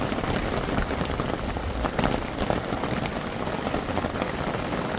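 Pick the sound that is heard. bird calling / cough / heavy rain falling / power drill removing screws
heavy rain falling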